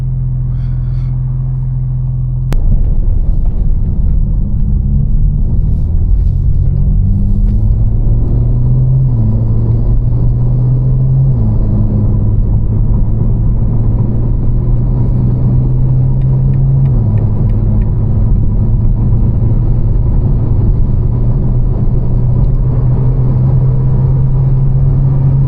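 A 750HP BMW M4 engine starts up abruptly after a moment of quiet, then settles into a loud, deep, close-up rumble whose idle pitch steps up and down as it warms, running steadily throughout.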